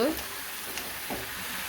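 Mixed vegetables sauté with salt and turmeric in a pan, giving a soft, steady frying sizzle with faint stirring scrapes, while a voice briefly talks at the start.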